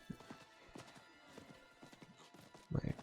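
Hooves of a ghostly horse in a video game clip-clop in an irregular series of soft thuds, faint and close, with a louder burst of hoofbeats at the end.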